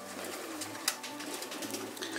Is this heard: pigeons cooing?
yes